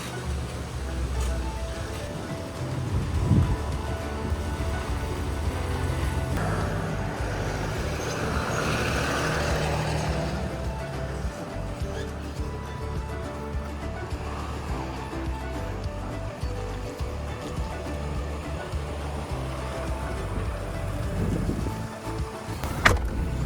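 RV towing or driving slowly out through a narrow gate up a steep incline in Baja, with a steady low engine rumble and road noise throughout, a few knocks and creaks near the start and end.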